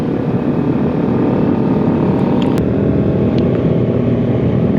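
Kawasaki ER6, a 600 cc two-cylinder motorcycle, with a steady, loud engine drone and a dense low rumble that holds at an even pitch throughout, no voices.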